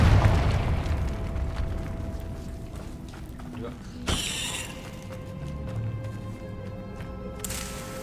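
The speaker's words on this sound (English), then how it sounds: "Confringo." The Confringo explosive spell in Hogwarts Legacy lands as a sharp blast partway through, following a heavy rumbling opening and settling into quieter mechanical rattles and faint background game ambience.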